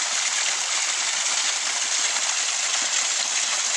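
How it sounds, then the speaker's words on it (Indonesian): A small natural waterfall pours steadily, a dense, even rush of falling water that stays loud and close throughout with no pauses. "ini air terjun alami"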